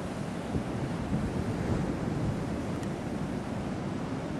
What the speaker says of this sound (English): These waves are huge that's coming up here